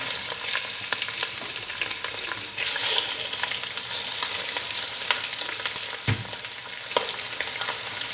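Lamb meat sears steadily in a hot pot, a constant crackling fry with occasional stirring clinks and scrapes, close and fairly loud.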